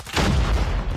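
Type 25 rifle firing in a video game, a rapid, loud burst of gunfire that booms in close after a brief lead-in and rumbles steadily for the rest of the moment.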